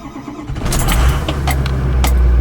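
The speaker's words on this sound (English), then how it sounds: "And I went out and cold started this truck." A Ford pickup truck cold starting at 17 degrees: a quick crank that catches immediately into a loud, close engine idle, rumbling steadily.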